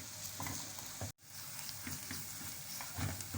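Flour roasts in a pan with sautéed onion, giving a quiet, soft sizzle with occasional stirring scrapes and a brief moment of near silence partway through.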